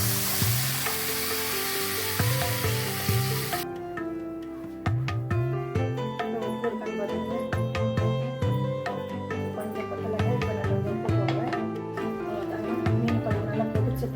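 Bat fish frying in hot oil for a fish curry sizzles steadily up close. A bright burst of sizzling at the start settles into softer frying, with stirring clinks over a tonal background.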